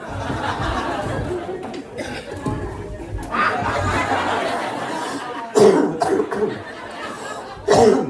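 Several coughs and short laughs break out amid a noisy room full of chatter during a religious lecture, with a couple of sharper bursts near the end.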